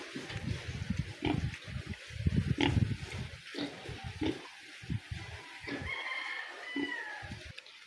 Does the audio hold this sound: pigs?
yes